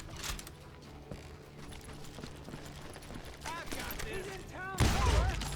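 Gunfire in the Wild West shooter Call of Juarez Gunslinger, with a few scattered shots and a loud burst near the end over a backdrop of game sounds and music.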